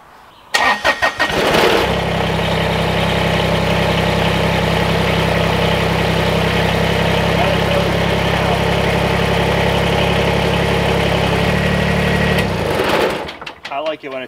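A vehicle engine idles rough after a fuel filter change, its dirty old filter having starved the injectors; it catches near the start, runs as a steady, loud, close drone for about twelve seconds, then cuts off.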